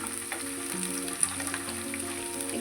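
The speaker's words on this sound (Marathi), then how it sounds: "त्यामध्ये आपण हा कांदा आता तळून घेणार आहे." Sliced onions fry in a few spoonfuls of hot oil with a steady, soft sizzle and a few small pops, under faint background music and with no speech.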